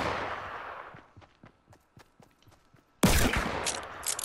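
Gunfire in the battle royale game Fortnite, a series of faint distant shots popping in an irregular rhythm, then a sudden loud close blast of shooting near the end.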